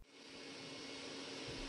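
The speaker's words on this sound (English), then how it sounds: "let's get some more of automatic vacuum cleaner action" Robot vacuum cleaner running in a bathroom, a steady broadband whirring hiss with a low rumble, close and continuous, with no talking.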